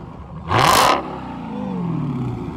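A Dodge Charger Hellcat with 707 horsepower gives one sharp, loud rev burst when the gas is hit, then settles into a lower idle rumble as a faint whine trails off in the background.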